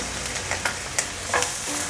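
Shiitake mushroom pieces stir-fried in sesame oil in a wok, a soft steady sizzle broken by a few light spatula scrapes, close and alone.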